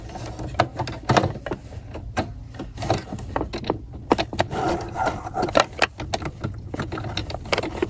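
A sewing machine runs a stretch stitch on a T-shirt, with rapid mechanical clicking and rattling bursts that come in uneven, repeating runs at moderate volume.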